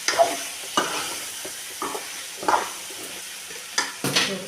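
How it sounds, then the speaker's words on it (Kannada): Brinjal frying in oil for a badnekayi palya, with a steady sizzle broken by about six scraping stirs at irregular intervals, close up. "ಇವಾಗ ಇದು ಎಣ್ಣೆಯಾಗ ಸ್ವಲ್ಪ ಫ್ರೈ ಮಾಡ್ಕೊಂಡ್ವಿ."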